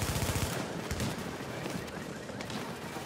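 Rapid bursts of automatic gunfire from an enemy in a shooter video game, a dense continuous volley of shots at moderate loudness with no voices over it.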